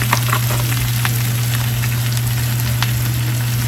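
A small pat of butter, about a tablespoon, sizzles steadily as it melts in a hot pan. The frying crackle stays dense and continuous, with a few sharper pops, and holds close and fairly loud over a steady low hum.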